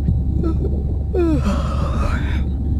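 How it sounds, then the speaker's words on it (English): A character in the game Beyond Blue gives a single drawn-out yawn, a breathy voiced sweep that rises and falls, close and clear over a low steady hum. "Was that a yawn?"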